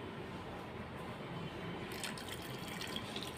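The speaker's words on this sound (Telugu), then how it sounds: "మరొకసారి ఇంకా హాట్ వాటర్తో ఈ బ్రెయిన్స్ని కడిగేద్దామండి" Hot tap water runs steadily into a sink while goat brains are rinsed, a soft continuous faint splashing wash with no talk.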